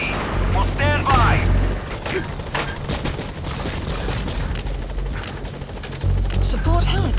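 In the video game Metal Gear Solid V: The Phantom Pain, a support helicopter arrives amid gunfire and explosions, its rotor noise mixed with bursts of shooting and in-game radio voices.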